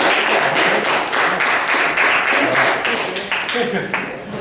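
A live audience applauds to welcome a new poet to the stage at a February 2013 open mic night at Churchills in Flint, Michigan: dense, steady clapping that holds loud throughout, thinning slightly toward the end.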